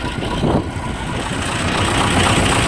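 An old T-25 tractor engine running in snowy winter, a loud, steady, close-up rumbling drone that holds evenly throughout with no talk.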